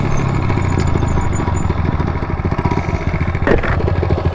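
A Honda Grom motorcycle rides along with a steady, loud single-cylinder engine drone, the pitch holding fairly even with a brief rev surge near the end, close to the rider.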